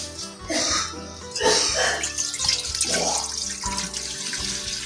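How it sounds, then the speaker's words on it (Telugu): Tap water runs steadily into a kitchen sink during home puja preparations, a continuous broadband rush with occasional splashes, while people talk nearby. "నీళ్ళు ఓపెన్ చేయి,"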